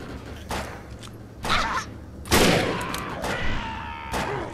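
Gunfire in the video game Defiance: a few separate bursts of shots and thumps spaced irregularly across the moment, fairly close and loud.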